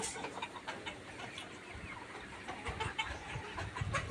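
A flock of about 3,100 layer pullet chickens clucks softly and continuously, a faint, overlapping murmur of many birds with no one speaking.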